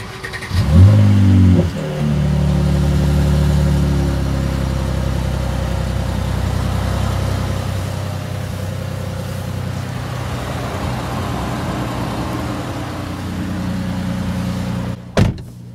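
A loud 2020 Mercedes-AMG C63 S coupé engine with performance exhaust cranks and fires up with a sharp roar, then settles into a deep, steady rumbling idle, ending with a couple of clunks.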